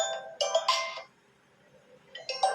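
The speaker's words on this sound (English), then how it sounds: "you can see your phone ringtone will change into Jovi life" A Jovi Lifestyle ringtone plays on a vivo T1x phone: two bright bursts of chiming electronic tones separated by a short quiet gap, clear and close with no talking.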